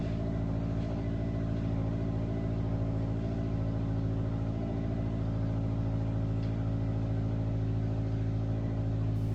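A Subaru engine idles steadily in below-zero cold with a deep, rumbling exhaust drone, loud from a replaced rear catalytic pipe, continuous and close, with no voices.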